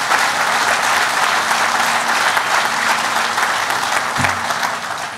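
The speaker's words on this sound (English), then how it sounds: "Let's give them a big round of applause." A crowd applauds outdoors at the grand opening ceremony of the Choctaw Nation campus headquarters, steady dense clapping that carries for several seconds before tapering slightly.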